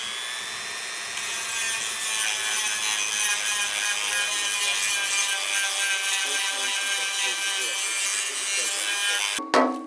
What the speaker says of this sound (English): So I'm gonna shave it down with a Dremel.